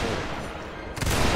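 Gunfire in a multiplayer war video game, a dense stream of shots that swells into louder, heavier bursts partway through, continuous with no talk.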